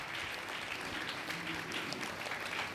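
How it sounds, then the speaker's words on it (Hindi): A church congregation claps steadily at a wedding anniversary celebration. The applause is dense and continuous, with many hands close by, and holds at an even level throughout. "ताली बजाएंगे, बधाई देंगे।"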